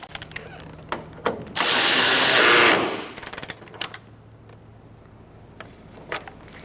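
A power drill spins for about a second, loud and close, driving a bolt on the grille of a 2014-2019 Kia Soul, with light ratcheting clicks before and after the burst and quiet background otherwise.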